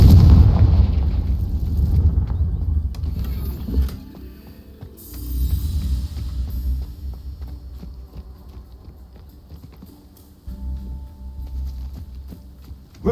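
A Confringo fire spell explodes in Hogwarts Legacy, a loud booming blast with a rumbling low tail, followed by further heavy impacts and deep rumbles over several seconds.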